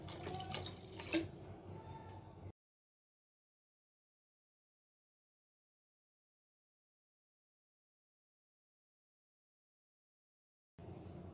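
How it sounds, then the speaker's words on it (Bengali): Water splashes into a pot of radish dal for a couple of seconds, a close liquid pour that cuts off into silence before a brief return of faint sound at the end. "এখন দিয়া দেবো পানি।"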